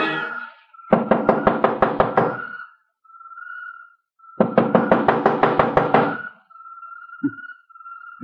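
Knocking on a door in an old-time radio detective drama: two quick bursts of rapid, loud, close raps, each about eight knocks, separated by a pause with a faint steady tone and a dull thump near the end.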